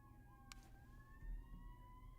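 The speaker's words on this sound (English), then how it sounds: "there's more sirens going on. I don't know if you can hear them." Emergency vehicle sirens wailing outside, heard faintly through an open booth door as thin, steady rising tones behind a quiet room hum, with a brief click early on and no talking.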